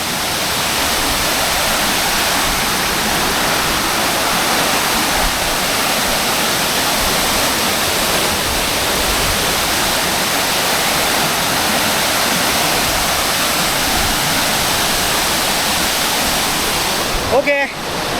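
Fairlawn waterfall near Upcot, Sri Lanka, running lighter than usual without rain, sends up a loud, steady rush of falling water. The dense roar continues unbroken and close, and a brief disturbance comes right at the end.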